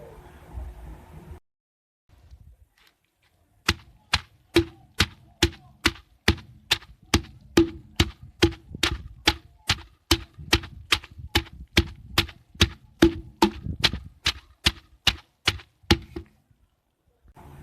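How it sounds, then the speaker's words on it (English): Fresh plants for an organic chicken remedy pounded in a mortar with a pestle, about twenty-five loud, steady rhythmic thuds repeating roughly twice a second for over ten seconds, close up with no talking. "put them in a mortar with pistil and pound them very well"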